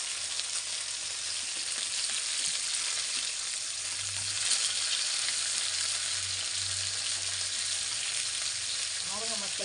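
Fish frying on a tawa, a steady close sizzle that keeps going for several seconds with a faint low hum beneath it.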